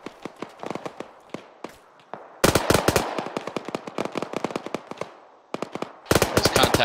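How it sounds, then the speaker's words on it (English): ArmA 3 battlefield gunfire: rapid, close automatic bursts crack in dense clusters, broken by short pauses, with sparser shots trading in the background. "Shots from the north."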